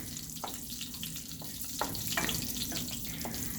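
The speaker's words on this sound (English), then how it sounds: "you will hear this fluttering sound. Just make sure that you fry down your cumin a little bit" Cumin seeds fry in hot oil with a steady, close fluttering sizzle and crackle, a few sharper pops and spits rising out of the hiss.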